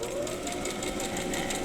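A sewing machine runs steadily, stitching fabric strips onto a quilt square in a fast, even mechanical whir, alone and close up.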